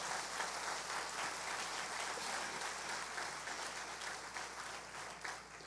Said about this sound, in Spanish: si va a aplaudirle al Señor, dicen los predicadores, apláudenle fuerte.